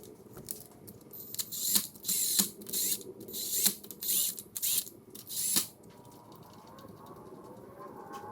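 A ratchet wrench works in bursts of rapid clicking to run down the cam bolts on a Honda D15 engine head during a B2 cam install, loud and close, then falling away to quiet background after about six seconds.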